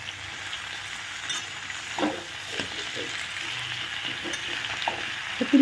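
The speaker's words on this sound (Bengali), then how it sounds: "শাকটা দিয়ে দেবো। এখানে কিন্তু কোনো জলের ব্যবহার হবে না, পুরো চাপা দিয়ে দিয়ে পুরো রান্নাটা করব।" Leafy greens cook in a covered pan with no water, giving a steady, even sizzle broken by a few soft clatters of stirring.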